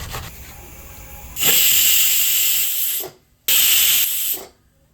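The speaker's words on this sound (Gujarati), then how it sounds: "સીટી વાગી ગઈ ચાલો આપણું કુકર ઠંડુ પડે છે" A pressure cooker on a home kitchen stove lets out two loud, steady hissing whistle blasts, each lasting a second or more, with a short silent gap between them.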